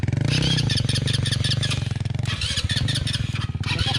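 A Chinese quad bike engine running close up and loud, a buzzing, throbbing idle that rises into a couple of rough revs, with no voices over it.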